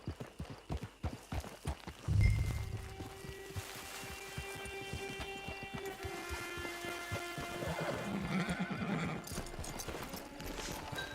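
Horse in Red Dead Redemption 2 whinnies sharply near the start, then hooves clip-clop steadily on ground amid ambient music tones, a low thump marking the neigh's onset and the hoofbeats continuing close and rhythmic to the end.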